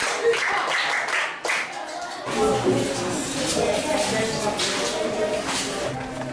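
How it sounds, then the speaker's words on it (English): Students in a classroom clap for a classmate, a dense burst of hand claps that swells after a brief lull and continues steadily alongside background chatter and voices. "Clap for him."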